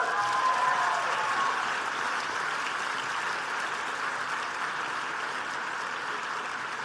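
An audience applauds at Brown University's 2022 doctoral graduation ceremony, a steady, even wash of many hands clapping that holds for several seconds with no voices.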